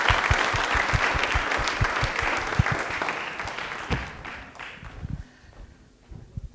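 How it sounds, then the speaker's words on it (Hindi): Studio audience applause for a contestant on a televised quiz show, loud, dense clapping at first that gradually thins into scattered claps and fades toward the end. "तालियां एक बार जोरदार हो जाए पलक के लिए"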